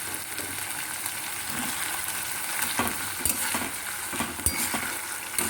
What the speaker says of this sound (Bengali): টমেটোটা দিয়েও বেশ কিছুক্ষণ ভাজতে হবে